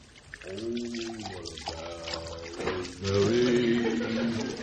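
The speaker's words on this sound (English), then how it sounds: "Brother Andy, ain't you got that glass of water yet?" Water poured into a glass with ice cubes as an old-time radio comedy sound effect, a steady liquid pour running several seconds, with voices talking over it.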